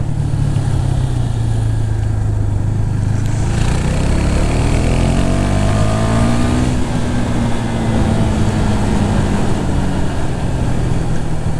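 Husqvarna Svartpilen 401 motorcycle engine under way while riding, a loud steady drone with harmonic pitch that sags, then climbs and rises again through gear changes, continuous with no talking.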